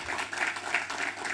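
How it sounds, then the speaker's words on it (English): A crowd at an independence anniversary lecture in Saint Lucia applauds, many hands clapping in a dense, continuous patter at moderate volume, without any speech over it. "Again, another round of applause for His Excellency"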